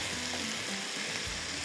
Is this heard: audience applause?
no